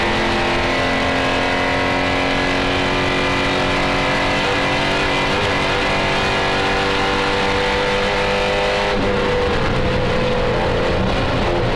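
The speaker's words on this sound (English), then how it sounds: "Big Aussie V8 bawling away down the straight, keeping up with the Evos." HSV GTS Commodore V8 production touring car racing down Bathurst's Conrod Straight, a loud sustained engine bellow holding high revs, with a sudden gear change near the end.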